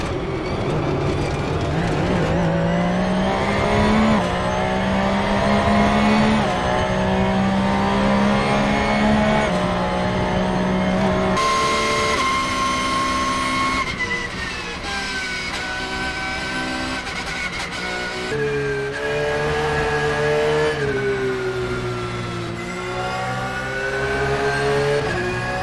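A race car in Assetto Corsa drives the bumpy Nürburgring carousel, its engine note a loud continuous whine that climbs and falls through gear changes and revs for the whole stretch, with no voices.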